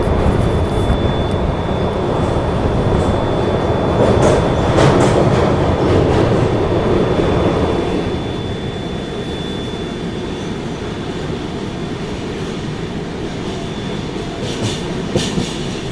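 The Saraighat Express passenger train running between Howrah and Guwahati rumbles steadily on the rails, a loud continuous roar with faint clicking, heard from on board with no talk.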